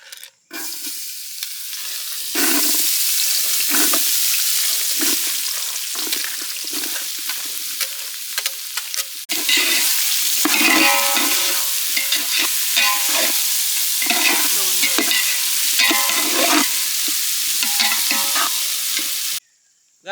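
Cinnamon, ginger, garlic, onion and green chili hit hot oil with a loud, sustained sizzle for a village-style snail fry, while repeated close stirring scrapes run throughout and no one speaks.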